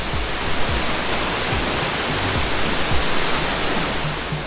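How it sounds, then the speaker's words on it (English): Rain-swollen waterfall in Aburi, Ghana, roaring in a steady, dense broadband rush that stays loud and unbroken throughout, with faint low thumps beneath the spray. "The waterfall was absolutely gorgeous."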